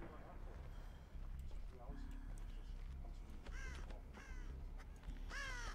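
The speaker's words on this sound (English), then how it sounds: "The crows are watching." Crows cawing in the video game Dead by Daylight, several harsh caws repeating at intervals over constant low rumbling background noise, with people talking.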